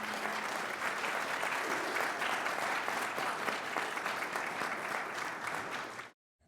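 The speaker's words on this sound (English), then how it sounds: "We can go ahead and give a round of applause to our candidates." Applause from the audience at a Democratic primary candidate debate, a sustained even round of clapping that carries for several seconds and then cuts off abruptly.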